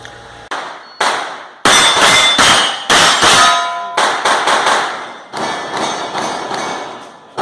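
Rapid strings of sharp, loud reports from a PSA PA-X9 AR-9 carbine at a Steel Challenge match, bursts of shots separated by brief pauses, each ringing off with a decaying tail.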